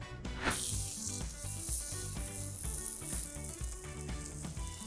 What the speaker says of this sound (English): Just gonna get a beautiful little crust to our pork belly here.